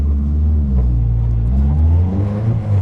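A Caterham sports car accelerating and building speed toward fourth gear, heard from on board as a loud, steady engine drone whose pitch climbs smoothly throughout.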